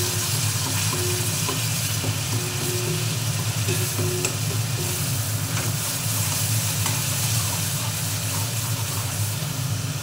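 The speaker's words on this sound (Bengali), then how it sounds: "মশলাটা খুব ভালো করে ভেজে নিতে হবে।" Spice masala sizzling and frying steadily in a pan for chola curry, a continuous close hiss with stirring scrapes throughout and no talk.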